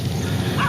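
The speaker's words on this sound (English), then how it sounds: "dogs start barking like crazy at a distance" Dogs bark at a distance at night near a wet road. The barking is short and muffled under steady background noise.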